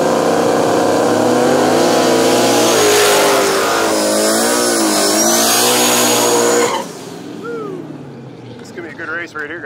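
Turbo LS drag race cars, including a 5.3 liter S10 and a Nissan Silvia, roaring loudly at a no-prep track, a sustained high-revving engine drone that shifts in pitch, then drops away as a voice speaks over the quieter tail.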